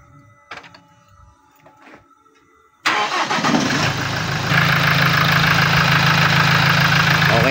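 A Toyota 1GD diesel engine, just fitted with a new timing chain, cranks and fires after a few faint clicks, then settles into a steady, loud, close idle that holds to the end.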